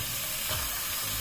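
Fish frying in a pan with ginger, a dense steady sizzle of hot oil filling the brief moment, loud and close with no voices.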